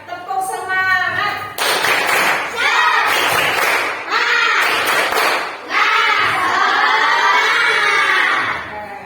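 Children in a classroom perform a rhythmic clapping chant, voices chanting loudly together in bursts punctuated by sharp group claps and thumps, close and energetic.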